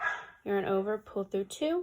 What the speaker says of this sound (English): I'm sorry if you can hear my dog barking in the background